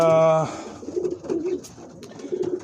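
Young pigeons coo in a loft after a brief harmonic tone at the start, their soft, low murmuring calls rising and falling in a steady, close-up stream with faint background rustle.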